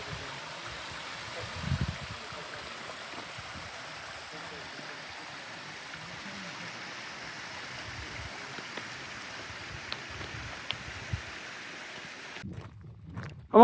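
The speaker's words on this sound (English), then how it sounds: "that lovely running water sound." Steady, broad rushing of a mountain stream near a waterfall and ford on Ben Nevis fills the background, with faint footsteps and a brief rustle near the end.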